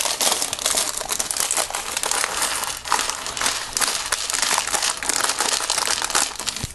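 A plastic bag of Lego pieces crinkles and crackles steadily as it is emptied, a dense, continuous rustle held close to the microphone, with no speech.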